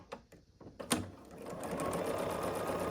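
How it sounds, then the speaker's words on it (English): A sewing machine stitching a diagonal seam across a quilt block: a few faint clicks and handling taps, then the motor starts and runs at a steady, even whir, quiet and close. "I can sew across my diagonal again"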